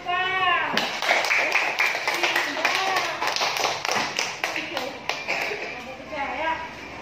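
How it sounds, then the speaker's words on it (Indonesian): Classroom clapping for a student group, a burst of claps from pupils with a teacher's voice over it, fairly close and moderately loud throughout. "Ya, tepuk tangan buat kelompok 4."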